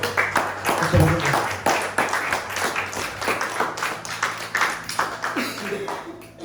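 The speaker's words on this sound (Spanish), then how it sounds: "Démosle un fuerte aplauso, Señor." Congregation applauding during a church service, loud sustained claps filling the room throughout, mixed with voices and crowd noise.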